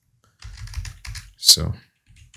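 A few quick computer keyboard taps in short clusters, close and fairly soft, then a single spoken word.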